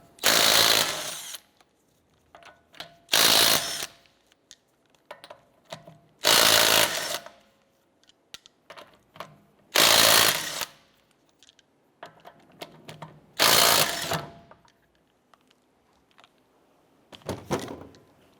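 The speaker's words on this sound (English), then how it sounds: "using a 19mm socket, let's go ahead and remove our lug nuts." Impact wrench or power tool bursts spin lug nuts off a 2008-2012 Honda Accord rear wheel with a 19mm socket, five loud buzzing bursts about three seconds apart, with quieter clinks and handling noises between them.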